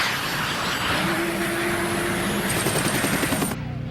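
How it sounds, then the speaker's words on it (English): Cartoon helicopter lifting off from a ship's deck, a loud continuous rotor roar with a rising whine and rapid chopping pulses that builds, then drops away abruptly. "Clear the decks and launch the chopper."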